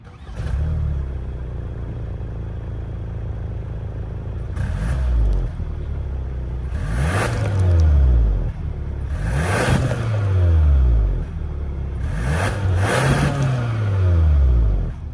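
A 2022 Kia Sorento's 2.5-liter turbo four-cylinder engine starts and idles, then revs up three times in separate swells, each climbing and falling back to a steady idle.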